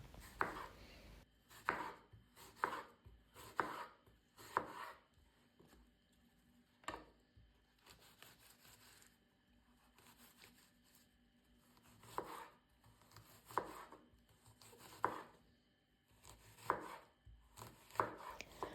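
A knife chops a sweet apple into medium pieces on a cutting board, sharp crisp knocks in irregular clusters with short pauses, close and clear with no talking.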